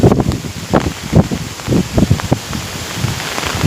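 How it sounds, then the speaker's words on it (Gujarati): Heavy downpour lashes a castor crop field in strong wind, a loud, dense roar of rain with gusty surges and rustling bursts of leaves, no voices. "ફૂલ વરસાદ છે."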